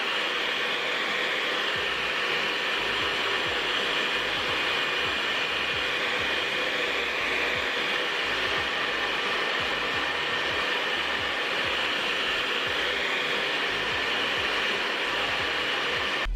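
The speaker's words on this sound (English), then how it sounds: "if you have a blow dry, you can put it on cool and just speed up the process." A hair dryer on its cool setting blows steadily to dry wig glue, a continuous loud rushing whir that runs alone without a break.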